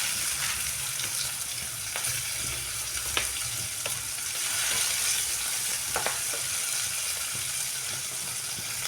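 Chopped green chillies and peas fry in a pan with a steady, close sizzle, broken by occasional light clicks and scrapes of stirring.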